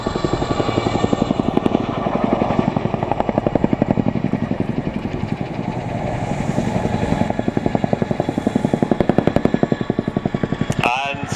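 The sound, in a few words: RAF Chinook helicopter climbing at air display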